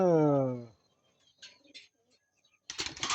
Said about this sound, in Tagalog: Nasa ronda na ang ating mga ibon mga kalapatids.